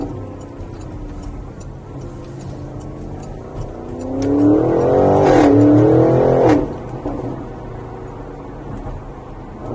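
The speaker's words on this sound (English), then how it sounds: "Really nice exhaust note whenever we get off gas." A 2021 Porsche Cayenne GTS sounds its exhaust note as the driver lifts off the throttle, a rising, burbling engine swell lasting a couple of seconds amid steady road and cabin noise.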